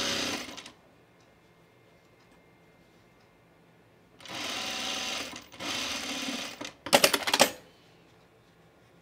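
Sewing machine stitching a rug, heard in short bursts of steady mechanical whirring separated by pauses, ending in a faster, louder clattering run.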